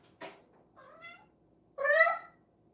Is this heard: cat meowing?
yes